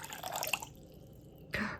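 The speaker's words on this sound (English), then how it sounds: "let's add another 5 grams of water" Small pours of water added to sourdough dough, two short splashy trickles separated by a quiet pause, faint and close.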